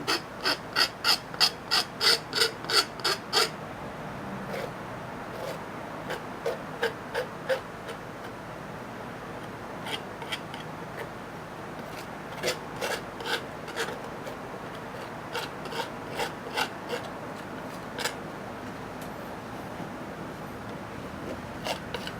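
A scraper drags across a painting to lift off paint in a series of short, crisp rasping strokes. A quick rhythmic burst comes first, then sparser scrapes spaced a second or two apart, close and dry with no talk.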